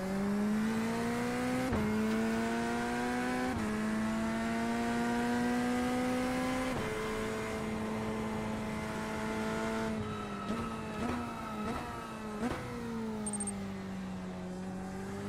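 Chevrolet Corvette race car engine in the iRacing sim, a steady high drone that rises through the gears with abrupt drops at each shift, sustained and loud with no voices.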